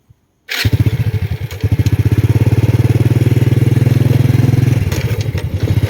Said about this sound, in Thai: ผมขี่มอไซค์ไป